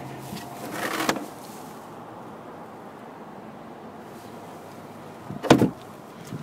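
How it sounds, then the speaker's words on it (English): Rear seat of a 2008 Chevrolet Equinox folding down flat in a 60-40 split, heard as a soft shuffle followed by a sharp thud of the seatback landing later in an otherwise quiet cabin. "I also put down the seat because both seats fold down flat for a 60-40 split"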